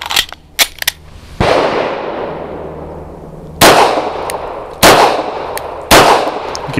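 Several loud, close pistol shots from a CZ 75 BD firing subsonic PPU Defense Line 147-grain hollow-point rounds, with sharp reports spaced unevenly, each followed by a long ringing decay, and faint clicks before the first.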